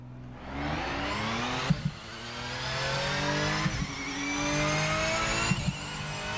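A car engine in a video game revs and climbs through gears in repeated rising sweeps, loud and close, with short clunks at each shift and no talk over it.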